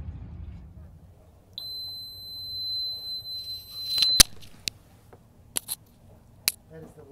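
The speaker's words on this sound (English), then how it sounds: "That is the Lazarette bilge high water alarm with the tone and the visual." A boat's lazarette bilge high-water alarm sounds a steady electronic beep tone lasting about two and a half seconds, followed by a few sharp clicks and knocks in a quiet space.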